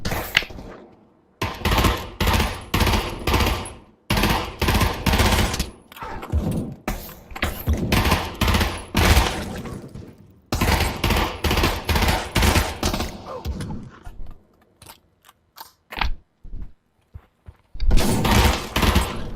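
Repeated bursts of MP5 submachine gun fire in the Pavlov VR shooter, loud rapid automatic volleys separated by short pauses and a few single shots, with no talking.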